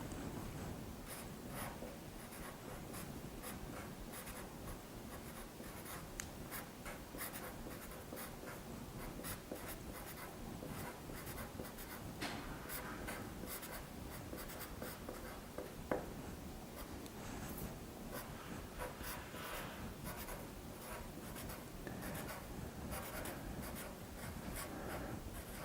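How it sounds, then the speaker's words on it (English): A pen or pencil writes letters on paper in a continuous close scratching and scribbling, steady across the whole stretch with no talking. "you're going to write this one out first silently"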